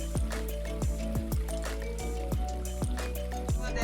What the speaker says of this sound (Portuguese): água entrando por todo lado e começamos a subir.